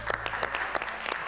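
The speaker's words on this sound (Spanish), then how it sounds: "recibamos con un fuerte aplauso a la gallinita" Studio audience applause on a live Latin American celebrity cooking show, a steady wash of clapping with bursts of sharper claps throughout, filling the room without voices.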